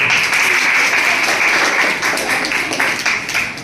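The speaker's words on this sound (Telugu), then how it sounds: "చప్పట్లు కొట్టండి" Students in a school classroom clap together in a loud, dense burst that holds steady, then thins into uneven, tapering claps toward the end.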